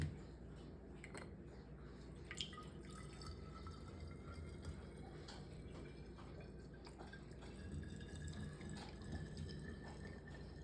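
Liquid is poured from a measuring cup into a 12-ounce beer bottle, a soft trickle with scattered drips and small ticks running quietly and steadily, heard alone.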